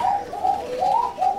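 A Giribaj pigeon, a female with green-tinged plumage, white on the head and a white beak, gives steady rolling coos in a close, clear series of rising and falling phrases, with no one talking.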